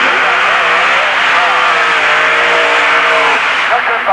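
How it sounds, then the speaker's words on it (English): A blown 362 cubic inch Chevrolet drag race engine with a 671 blower, running on gasoline, Hilborn injected, with a Powerglide transmission, roars loud and sustained at a 1986 dragstrip, its harsh rising drone filling the whole stretch. "362 cubic inches of Chevrolet, running a 671 blower on gasoline."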